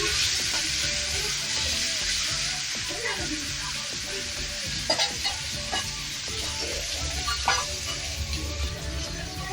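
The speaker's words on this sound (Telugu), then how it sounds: "టమాటాలు కూడా బాగా మెత్తగా ఫ్రై అవ్వాలి" Tomatoes and onions fry in a pan for masala Maggi noodles, giving a steady close sizzle with scraping spoon strokes and a few sharper clinks throughout.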